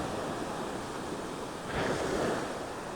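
Ocean surf at Legon Pari beach, a continuous roar of breaking waves with wind buffeting the microphone, swelling briefly louder midway as a wave crashes nearby.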